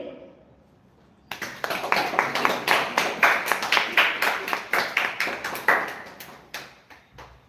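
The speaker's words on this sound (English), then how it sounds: "Everyone put your hands and clap for him and clap for him" Audience clapping at a public speaking and anchoring session, starting abruptly after a second of quiet and carrying on as a loud, fairly rhythmic group clap before thinning out into a few scattered claps.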